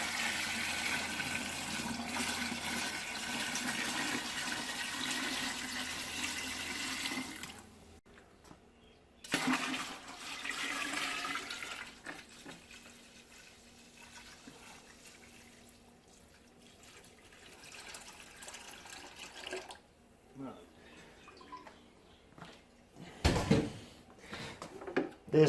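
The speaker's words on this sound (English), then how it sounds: "I'm only going to fill this to 21 litres." Water runs from a tap into a home-brewing fermenter for a Coopers Pale Ale kit NEIPA, a steady splashing rush for about eight seconds, then stopping, followed by scattered quiet drips, knocks and handling clatter.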